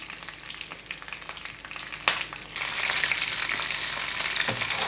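Split green chilies sizzling in hot oil with garlic, curry leaves and jeera for chilli chicken, a close crackling fry that swells louder after a sharp clack partway through.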